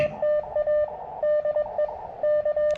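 Morse code CQ call sounding as a steady sidetone from a legit N0SA CW key during a QRP portable park activation at Filmore Glen State Park: crisp on-off beeps of one pitch in dit-dah groups, close and clear over faint background hiss.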